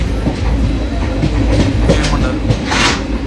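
Inside a moving overnight sleeper train, a loud steady rumble and roar with rhythmic wheel clatter over rail joints and occasional brighter hiss, heard continuously close up from a lower berth.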